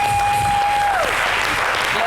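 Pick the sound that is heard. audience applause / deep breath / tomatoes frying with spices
audience applause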